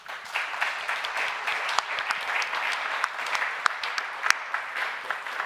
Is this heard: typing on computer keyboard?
no